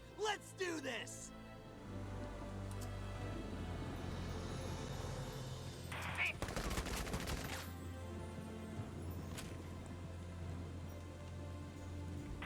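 Gunfire in the tactical game Valkyria Chronicles 4, a few sharp shots early and a heavier cluster of bursts midway, sitting fairly low under steady background noise and game music, with voices heard.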